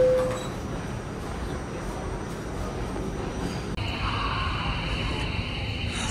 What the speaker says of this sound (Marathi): आणि आता मी ट्रेन पकडली आहे ही सबवे, जी मला डायरेक्ट नॅशनल पार्कच्या बाजूच्या स्टेशनला सोडायचं।